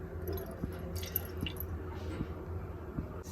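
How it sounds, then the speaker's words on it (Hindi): Cooking oil, about two spoonfuls, is poured into a pan in a home kitchen, giving faint drips and soft wet squishes at a gentle, fairly regular pace with no talking. "अभी मैं डाले तेल 2 चम्मच और थोड़ा से और"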